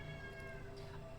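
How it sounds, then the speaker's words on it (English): Cat meows in the video game Virtue's Last Reward, a single drawn-out meow heard clearly over a steady low game hum, with no voices on top. "I hear him meow"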